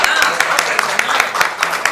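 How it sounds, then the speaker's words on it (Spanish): Applause from an audience at a business event as guests are called to the head table, a dense wash of clapping with scattered sharper claps, fairly close and steady throughout. "Aplaudan, aplaudan."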